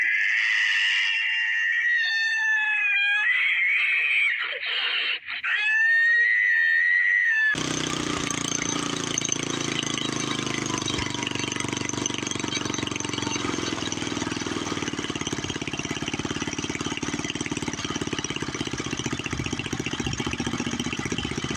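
A few seconds of warbling, squealing tones, then a small tiller engine starts up and runs steadily with a rough, buzzing drone close by.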